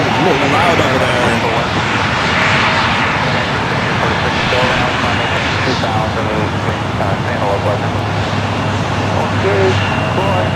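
A fixed-wing airliner arriving at LAX from Denver roars loudly overhead in a sustained engine wash, while a person talks over it throughout.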